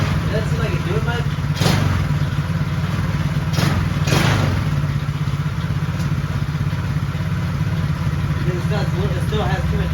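A quad's engine running rich with too much gas, a steady loud low rumble and idle throughout with a few thumps and clatters close by, while someone talks over it.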